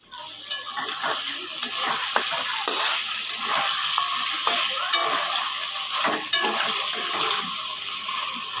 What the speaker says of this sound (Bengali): গোশটা একটু ভেজে নিব, হালকা ভাজবো, বেশি ভাজবো না